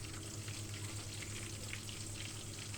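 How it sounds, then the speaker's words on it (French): Sardines frying in a pan, a steady soft sizzle and crackle of hot oil that holds evenly throughout, fairly faint and with no voices. "on attend que les sardines cuisent"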